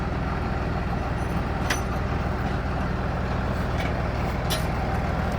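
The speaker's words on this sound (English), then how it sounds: "Well, we got the big tractor now." A big farm tractor's engine runs steadily at close range in a hay field, giving a constant low rumble with no breaks and no speech over it.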